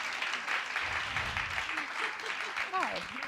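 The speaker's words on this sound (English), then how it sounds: "let's give them all a round of applause" A conference audience at a women's sexual health event claps for the panel, a sustained round of applause with a voice talking over it.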